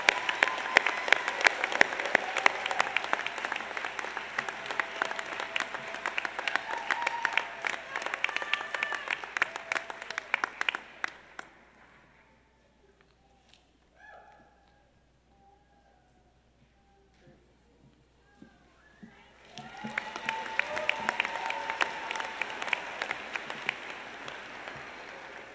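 Graduation ceremony audience applauding loudly for about twelve seconds, a dense steady roar of clapping that fades into a quiet hall with scattered small noises, then a second burst of applause swells back up near the end.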